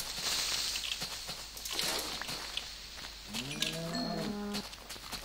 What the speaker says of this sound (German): Ganz viele Kühe.